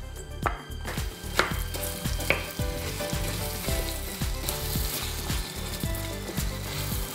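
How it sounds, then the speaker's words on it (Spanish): Diced apples sizzle steadily in melted butter in a frying pan, a bright continuous crackle broken by repeated clicks and scrapes of stirring, close and alone. "La mantequilla ya está derretida, voy a añadir la manzana y le voy a dar unas vueltecitas."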